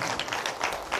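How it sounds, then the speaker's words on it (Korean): A lecture audience claps briefly, a short burst of dense, even applause from many hands in a hall. "저렇게 좀 박수만 쳐주셔도 얼마나 내가 고마운지"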